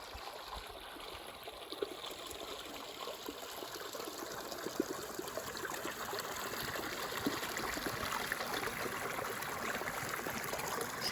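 Small river running steadily beside an ambush blind outdoors, a soft continuous trickling wash that stays even and fairly quiet for the whole stretch, with no voices.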